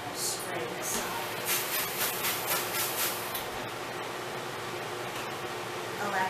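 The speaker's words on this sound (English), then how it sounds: "I'm also going to spray this side." Water is spritzed onto baguettes in a hot oven to make steam, a run of short hissing spray bursts in quick succession near the middle, followed by quieter rustling and handling.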